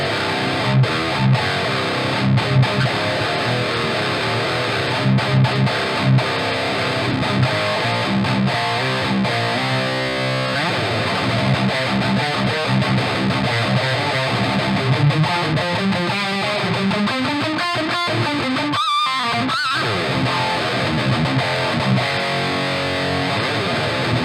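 Electric guitar played through a free Nalex dual rectifier amp simulator, thick distorted high-gain tone with chugging rhythms, sustained chords and a few sliding bends, loud and continuous with no talking.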